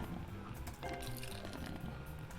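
Beer is poured in the cooking game Cook, Serve, Delicious!, giving a steady liquid fill with bubbly, squishy texture and faint tonal game music, loud and continuous throughout.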